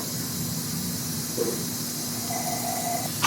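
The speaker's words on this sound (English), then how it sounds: "Suck out the old brake fluid from the brake reservoir." Old brake fluid is sucked out of a Toyota Corolla's brake reservoir, making a steady, close hiss that runs throughout, with a faint higher whistle near the end.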